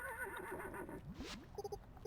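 A horse in the video game Fields of Mistria gives a short whinny, a wavering neigh that rises and falls, followed by a few quick chiming game tones.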